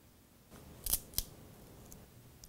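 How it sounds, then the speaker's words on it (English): Scissors snip through a wooden cake dowel for a tiered cake, two sharp close cuts about a quarter second apart in an otherwise quiet room. "Cut your dowel along this line."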